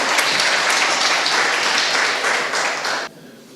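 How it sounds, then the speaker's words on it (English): An audience at a crypto meetup applauding, dense close clapping from many hands that holds steady for about three seconds and then cuts off. "Give a round of applause to"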